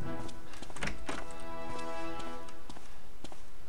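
A fire axe strikes zombies in the game Land of the Dead, producing a rapid series of hard, thudding hits over a dense, loud, continuous game soundscape.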